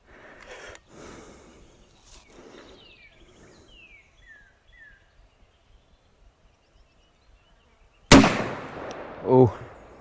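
A single sharp rifle shot from a gun fitted with a UUQ Aspire ED 1-12x24mm LPVO scope cracks loudly near the end, following quiet outdoor ambience with faint bird chirps, a fainter second report trailing just after.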